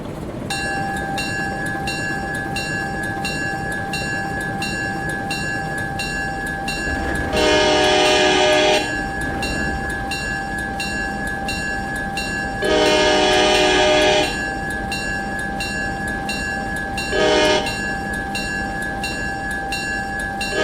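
A GE 44 Tonner diesel locomotive in the Railroader game hauls ten fully loaded pulpwood cars, close to 700 tons, on level track: a steady engine drone and rolling rail noise, with three loud horn blasts, two long and one short.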